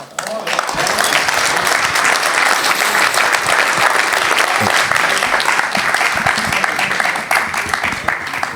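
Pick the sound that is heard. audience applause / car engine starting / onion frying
audience applause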